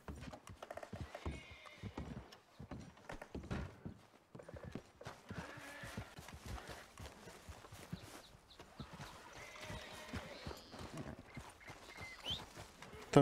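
A horse walking in the video game Red Dead Redemption 2, its hooves clip-clopping in a steady, continuous rhythm with a brief whinny, set against a faint outdoor ambience.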